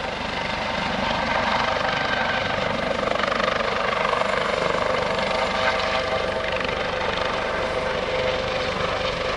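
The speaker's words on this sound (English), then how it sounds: "The Dolphin helicopter has moved away to a safe distance" A Coast Guard Dolphin search and rescue helicopter holds a loud, steady rotor and turbine roar over Greenwood Lake at an airshow, heard from a distance without a break.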